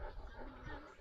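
An Akbaş-type guard dog, a large Turkish livestock breed, makes brief close whimpers and yips over rustling outdoor noise, with no clear bark.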